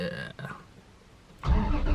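A Toyota Supra with a 2JZ engine cold-starts: after a quiet stretch, a loud, sudden burst of engine noise near the end settles into a strong, steady low rumble, close by, with voices heard earlier.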